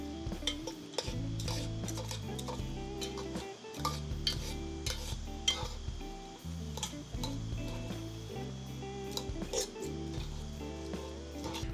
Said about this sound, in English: So I'm gonna shred it right in the pot here.